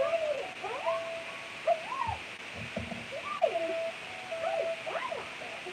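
Repeated hooting calls of an owl-like bird in Genshin Impact, rising and falling tones with some steady held notes, set over a constant background wash of game ambience.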